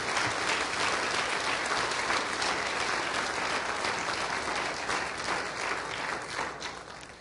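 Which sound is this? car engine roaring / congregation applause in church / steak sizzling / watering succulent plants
congregation applause in church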